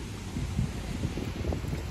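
Steady outdoor wind buffets and rumbles across the microphone by a water feature in a town, a constant low roar without speech.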